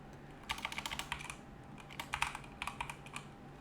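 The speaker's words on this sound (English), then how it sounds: "If I can type dexterity here" Typing on a computer keyboard while entering character attributes in Python code, a steady run of crisp key clicks in two short bursts over a faint background hum.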